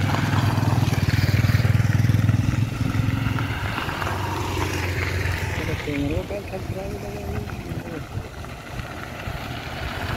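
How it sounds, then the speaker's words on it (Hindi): A scooter and several motorbikes ride away, their engines droning and revving under steady voices, with the engine noise gradually thinning. "देखिए स्कूटी है सर, सब बाइक से जा रहे हैं।"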